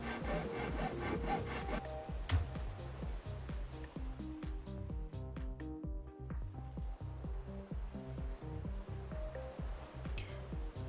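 Metal is cut with a hand saw in the salvage game Ship Graveyard Simulator, a long run of regular back-and-forth rasping strokes that are close and fairly loud, with a tonal background layer beneath them.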